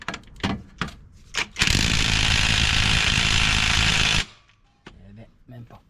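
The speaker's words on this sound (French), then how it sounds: "Je vais voir si j'arrive avec cette clé à choc." Impact wrench hammering on the 18 mm crankshaft pulley bolt of a Nissan Qashqai 1.5 dCi, a loud continuous rattling burst of about two and a half seconds, set between bits of close speech before and after.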